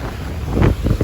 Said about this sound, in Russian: Штормовой ветер прямо.